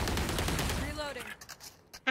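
Rapid gunfire from the video game Valorant bursts loudly through the first second, then fades into scattered, fainter shots and clicks, with a voice talking over the action.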